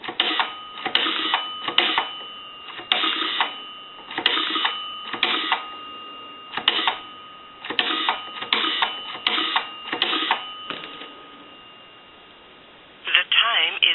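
An A&E three-slot payphone dialing a long-distance time and temperature line: a run of short, evenly paced tone bursts sounds through the narrow, tinny telephone line, then pauses briefly before a final cluster of tones.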